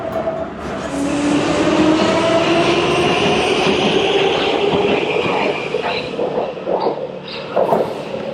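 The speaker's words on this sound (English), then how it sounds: "And this is the metro." A Prague metro train runs at high speed, a loud steady rumble with rising motor whine and rail clatter that holds for several seconds, then shifts to squeaks and clacks as it slows.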